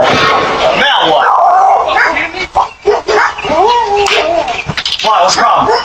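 A dog barks and whimpers at a UPS delivery driver bringing in a package, the yelps and whines rising and falling over loud, agitated talk from a person nearby throughout.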